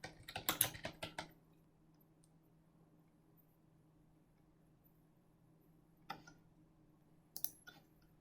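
Keys clatter on a computer keyboard as an email subject is typed: a quick, close flurry of clicks at the start, then quiet, then two short, faint bursts of keystrokes near the end.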